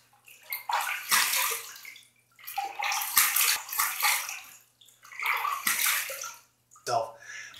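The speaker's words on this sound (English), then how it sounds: "let's rinse" Water runs and splashes in bursts as a RazoRock chrome shaving brush is rinsed under a tap, four washes of flow separated by short pauses, close and fairly loud.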